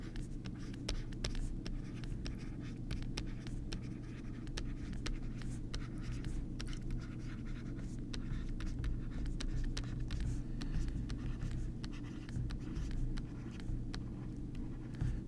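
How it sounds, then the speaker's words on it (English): A pen scratches out a handwritten list of numbers, perfect squares and cubes, in quick repeated strokes and taps over a steady low background hum. "So let me write the list of perfect squares and perfect cubes."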